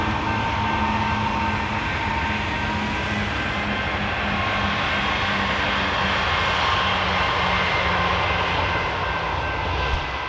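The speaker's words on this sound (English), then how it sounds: "As rear DPUs on this train, they had a CP ES44AC and then another BNSF GEVO" Freight train on the Fort Worth Sub with a CP ES44AC and a BNSF GEVO as rear DPU locomotives, giving a loud, steady, continuous rumble and engine drone throughout with no voices.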